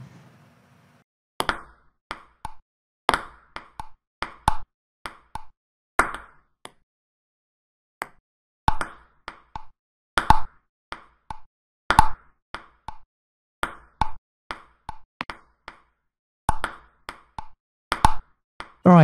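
Table tennis ball hits in the VR game Eleven Table Tennis, a long run of sharp, hollow plops and clicks from paddle and table in a quick, irregular rally rhythm, with one brief pause, clear and close with no talk.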